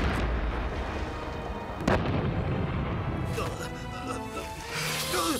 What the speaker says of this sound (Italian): Secondo cannone! Fuoco!